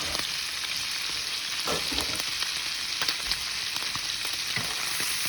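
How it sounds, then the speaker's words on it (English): Pancetta frying and bubbling in a pan while cooking a Bolognese, a steady close sizzle and crackle with occasional louder pops and stirring sounds, no voices. "We're gonna cook it for like 6 to 8 minutes until the fat renders."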